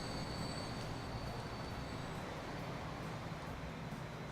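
Steady rumbling of a freight train running in the Transport Fever game, a continuous low roll with faint high whine, even and unbroken throughout.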